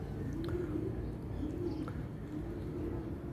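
Pet pigeons coo in a loft, soft repeated throaty coos close by over a steady low background hum.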